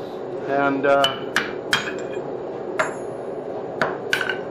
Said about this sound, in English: cut that sloppy little weld ball off the end of that